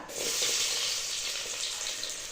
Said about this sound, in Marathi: कांदा जरा चांगला परतून घ्यायचा